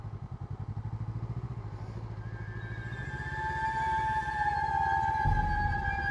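Honda Rebel 500 motorcycle ridden on winding mountain roads, its engine loud and close with a steady pulsing rhythm that rises in pitch as it accelerates, ending in a rising whine.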